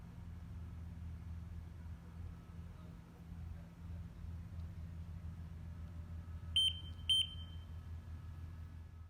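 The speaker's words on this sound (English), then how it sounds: "The beeping sound heard in this video is a representation of the BES firing" Two short, high electronic beeps close together near the end, signalling pyrotechnics firing, over a low steady hum of background noise.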